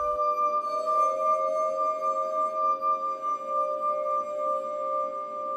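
A glass harp sounds a sustained, ringing chord of pure tones, steady and close for several seconds with gentle swells in loudness and no voices.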